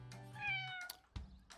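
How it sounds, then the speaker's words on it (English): A few high-pitched kitten meows, close and clear, in quick succession with short gaps between them. "Oh, that sounds like a kitten."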